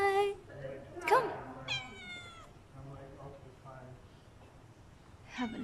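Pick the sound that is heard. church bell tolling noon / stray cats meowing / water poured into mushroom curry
stray cats meowing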